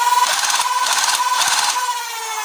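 A select-fire Nerf Stryfe blaster fitted with an XSW full-auto kit and running off a test pack spins up its flywheels, giving a loud, steady, high whir with a faint pulsing, close by and alone, easing slightly near the end.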